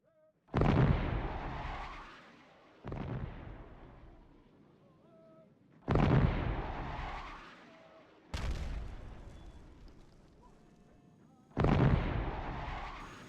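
Tank artillery fire from mercenary tanks in the strategy video game Power & Revolution, set in Syria: five heavy, booming shots spaced a few seconds apart, each with a long rumbling decay, with no talk over them.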